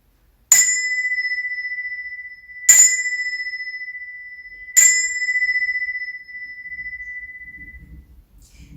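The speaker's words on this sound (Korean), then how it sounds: "이 소리는 기쁜 소식을 알리는 종소리예요." A bell rings three times, each clear metallic strike ringing out and decaying slowly into silence roughly two seconds apart, followed by a faint low rumble.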